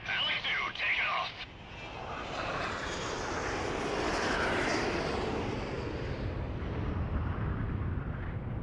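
Fighter jets take off in a combat flight video game, a loud building engine roar with a rushing jet wash that swells and holds steady, preceded by brief radio-style chatter.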